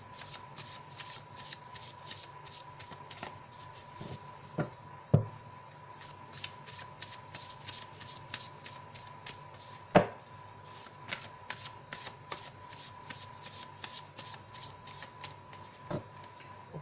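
Tarot cards shuffled by hand in a steady run of crisp riffling bursts, with a few louder slaps of the deck, close and alone with no talking.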